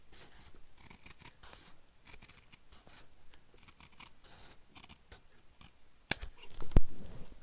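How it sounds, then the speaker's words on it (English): Scissors snipping the thin edge of paper, quiet rustling and small handling noises building to a couple of sharp, close cutting snips near the end. "We're just going to cut the very edge."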